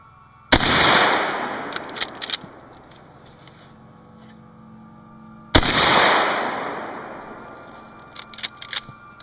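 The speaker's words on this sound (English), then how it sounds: "to give you an idea of how loud this gun actually is, I found a YouTube video of someone demonstrating the same gun" Two loud rifle shots from a .35 Marlin, sharp cracks about five seconds apart, each followed by a long rolling echo that decays slowly, with small clicks and handling noises between them.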